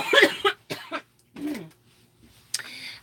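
A person coughs a few times in quick succession and clears their throat, close to the microphone, with short breathy pauses between the bursts.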